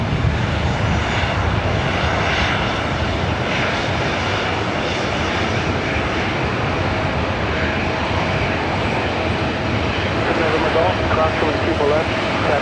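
A Boeing 737-900ER jet departing LAX for Detroit thunders loudly and continuously, a dense, even engine roar close by, with a voice talking over it throughout.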